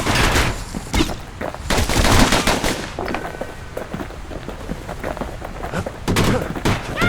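In the video game Bastion, loud gunfire comes in rapid, overlapping bursts and volleys, close and sustained, with brief lulls between clusters of shots.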